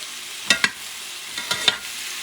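Pieces of pork return to a hot frying pan with two pairs of short, sharp sizzling spatters over a quiet background hiss, close and moderately loud.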